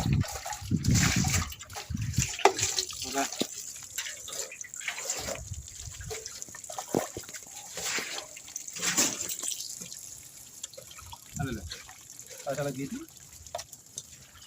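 Water splashing and running in bursts as a CNG auto rickshaw is rinsed down during washing, with voices talking intermittently over the spray.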